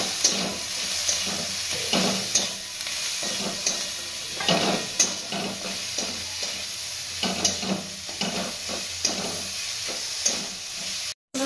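Okra and potato curry with tomatoes sizzles in a pan, a continuous loud frying hiss broken by repeated scraping strokes of a spatula stirring the mixture.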